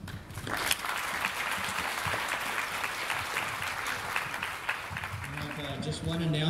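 Conference plenary audience applauding a panel, a dense even wash of clapping from a large hall that holds steady for several seconds, with a faint voice beginning near the end.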